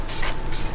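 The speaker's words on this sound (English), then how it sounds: "we're just gonna spray the calipers right now with the blue" Aerosol spray paint hissing onto brake calipers during a blue refinish, with two short loud bursts separated by a brief pause, close to the can.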